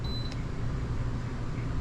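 A short electronic beep from the oven timer in a 2020 Jayco Entegra Coach Emblem Class A motorhome, a single thin tone near the start over steady low background hum.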